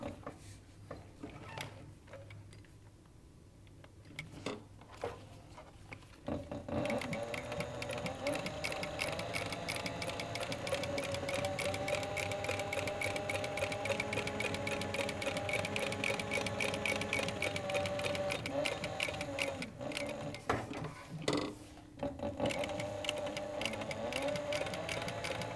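A sewing machine stitches cording onto cowboy boot tops, starting after a few quiet seconds with light ticks, then running steadily in a close, even mechanical whir with a brief pause near the end.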